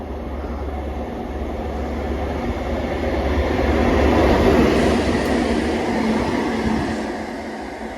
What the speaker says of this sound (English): it's a Rail Adventure HST going from Tyseley to DB Cargo.